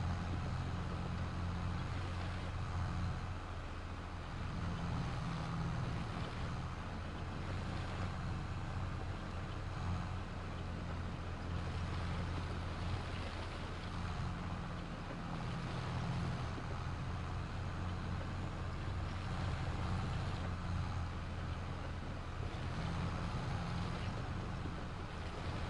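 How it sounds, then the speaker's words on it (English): Tractor engine in the Farm Simulator video game, a continuous low droning rumble with steady loudness throughout, no talk. "This is why you need a high-powered tractor."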